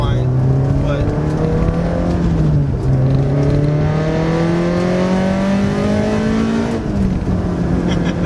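Supercharged Honda S2000, rebuilt after a wreck, accelerating with a steady rising supercharger whine over loud engine drone, continuous and close throughout with no pauses.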